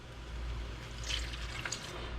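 A cup of water poured into a hot pan of vegetables to half-steam, half-boil them, giving a steady liquid splash and hiss with brief brighter sizzling flares.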